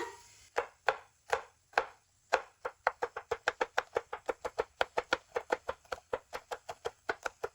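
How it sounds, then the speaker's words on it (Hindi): A knife chops two red chilies and one green chili on a board. Crisp, evenly spaced thuds start slowly, then quicken into a steady fast rhythm, close and clear with no talk. "अब यहाँ पे मैंने 2 रेड चिली ली है, 1 ग्रीन लिया है। इनकी भी करेंगे कटिंग।"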